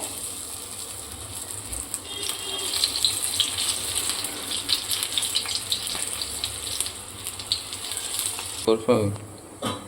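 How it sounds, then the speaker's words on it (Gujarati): Corn bhajiya fritters deep-frying in oil over a moderate flame, a dense steady crackling sizzle close by, with a brief louder clatter near the end and no talking. "તો આપણે આ રીતે તળી લઈશું બધા"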